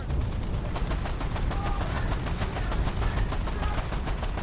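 War Thunder gunfire, rapid sustained automatic bursts, loud and close, with a fast, even rhythm of shots throughout and no speech over it.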